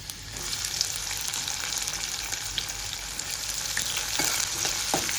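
Chopped onions sauté in hot oil with asafoetida, green chilli and curry leaves, giving a steady, close hiss of frying with a few light stirring scrapes and ticks near the end, no talking.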